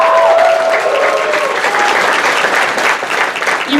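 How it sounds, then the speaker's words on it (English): A crowd at the Planet Comicon 2017 opening press conference cheers and applauds, steady and loud throughout, with a faint voice briefly audible near the start. "Let's cheer to that"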